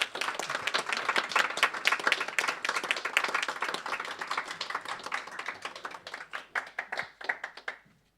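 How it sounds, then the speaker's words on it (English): Audience at a Festival of Debate 2016 panel on basic income clapping in a dense round of applause from a live crowd, fairly quiet, that thins out to scattered claps and fades out at the end. "If you give her a bit of a round of applause"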